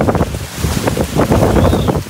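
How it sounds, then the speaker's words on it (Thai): Strong storm wind gusts roar steadily across an outdoor Thai barbecue grill restaurant under the trees, a loud, continuous buffeting rush close to the microphone with no voices. "พายุเข้า ลมแรงมากดูดิฮะ"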